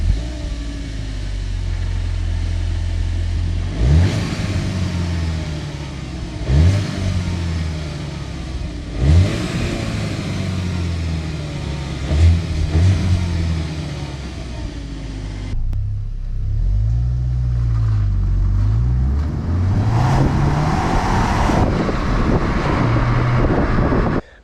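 Skoda Octavia RS Estate with a manual gearbox, revved repeatedly from idle in a series of rising blips, then held in longer sustained revs. The engine and exhaust are loud and close, with some wind noise and no talk.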